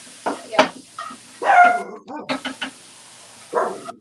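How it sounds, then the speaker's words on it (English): A dog barks in a few short, sharp bursts at close range, with quieter gaps between them and a brief voice nearby. "Well, dog was carrying on."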